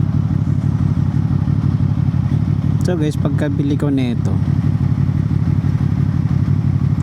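A QJ Motor SRV 600 inline-four motorcycle engine keeps up a steady, dense low rumble throughout, with someone speaking briefly over it midway.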